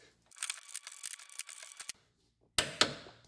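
A torque wrench on a bolt of a Chevrolet Silverado leveling kit gives a rapid series of close metallic ratchet clicks, a short pause, then a couple of sharper clanks.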